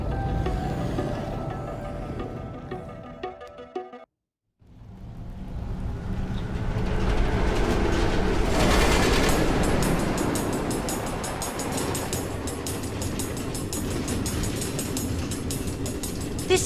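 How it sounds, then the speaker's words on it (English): A train runs along automated rail tracks through the Nether in Minecraft: Story Mode, a continuous rumbling roll with clattering, broken by a brief drop to silence before the dense rolling noise returns and carries on steadily. "Automated train tracks running all through the Nether?"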